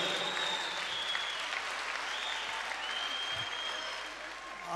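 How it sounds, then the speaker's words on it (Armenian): An audience at a concert evening of songs applauds in a sustained, even wash of clapping heard from within the hall, without a break. "ձեր ծափահարությունները"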